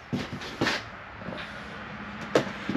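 The bunk room door in a 2024 Keystone Cougar Half-Ton 32BHS travel trailer swings shut with a few soft wooden knocks and a final muted thud, close by in a quiet interior.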